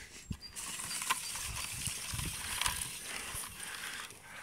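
A poly wire fence reel being cranked by hand while sorting calves outdoors, giving quiet close ratcheting clicks and whirring in uneven bursts.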